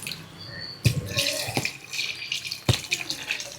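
Water poured into a cooking pot during a home morning cooking session, splashing and gurgling in short bursts with a few sharp clanks, close by.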